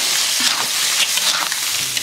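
Bullfrog pieces frying loudly in a wok with ginger, garlic, pickled chilies and clams, a dense continuous sizzle and crackle close up with faint stirring scrapes, no voices.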